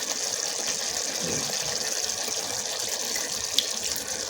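Running water gushes and splashes while liver (kaleji) is washed and mixed by hand, a steady close wash with no talk.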